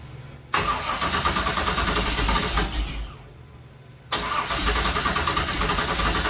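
A 1966 Chevy Nova wagon with a 327 small block cranks and catches loudly up close, runs rough for a couple of seconds, dies down, then fires again and keeps running.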